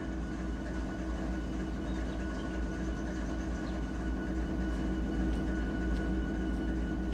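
A train in a railroad simulator game rumbles steadily at close range, a continuous low droning engine with a constant hum and faint rattles, with no voices.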